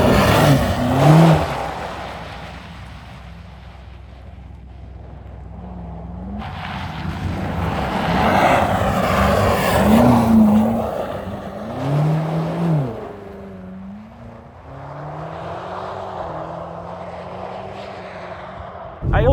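A BMW M5 G99 accelerates hard on a gravel track, engine rising and falling in pitch through several surges as the rear steps out, with wind and road rumble close by and no talk.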